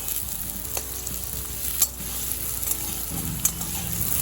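Small chopped potatoes sizzle in mustard oil in a kadai, a steady close bubbling hiss with a few sharp pops and faint stirring clinks.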